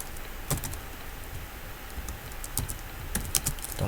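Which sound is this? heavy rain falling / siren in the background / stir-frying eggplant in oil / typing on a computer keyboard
typing on a computer keyboard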